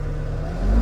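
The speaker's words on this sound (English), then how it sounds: "So that's full throttle right there." Bobcat E60 compact excavator engine held at full throttle, heard from inside the quiet cab as a steady, loud low drone with a hum that swells slightly toward the end.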